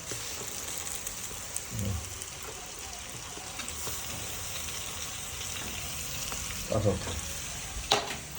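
Mixed vegetables with onion, garlic, ginger and tomato frying in a pan: a continuous hissing sizzle like light rain, close and steady, with occasional soft stirring knocks and scrapes and no speech.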